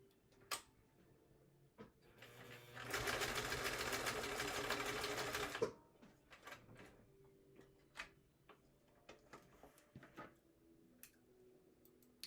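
A domestic sewing machine runs in one steady burst of a few seconds, stitching fabric strips for a quilt, then stops, leaving scattered light clicks and handling noises.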